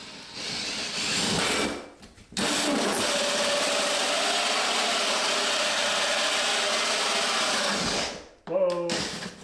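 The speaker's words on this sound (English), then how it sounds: "Let's drill the hole for the line set through this wall at least." A power drill cuts a hole through a wall of an '80s mobile home for a mini-split line set, a long loud steady grinding run after a short first burst, ending with a brief stop and a voice.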